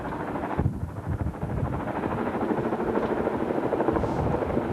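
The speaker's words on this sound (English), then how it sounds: "There you see the helo hovering almost over the ship, where it will pick up its next cargo and probably bring it over here." A Navy helicopter hovers over a ship's deck to pick up cargo, heard from aboard a nearby Navy ship as a loud, steady rotor drone that continues throughout.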